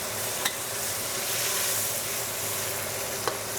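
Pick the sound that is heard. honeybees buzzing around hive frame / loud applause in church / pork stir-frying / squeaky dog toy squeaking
pork stir-frying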